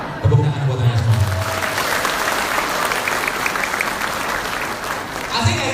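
Audience applause at an Indonesian religious business talk, a steady loud clapping that fills the room for several seconds, with a voice briefly audible at the start and end.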